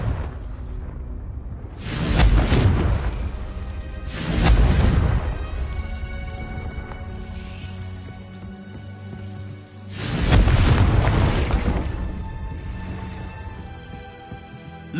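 Confringo fire spell blasts in the Hogwarts Legacy video game: three loud whooshing explosive bursts, each swelling then fading, with a steady low musical and ambient bed running between them.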